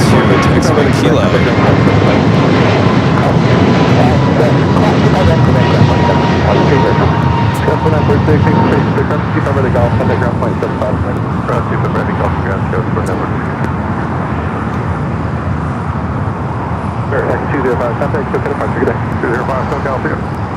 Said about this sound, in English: we got Finnair A350 heading back to Helsinki